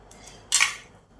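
A thin spoon scrapes the seeds and soft pulp from inside a pointed gourd, giving one short, close scratchy scrape with no talking.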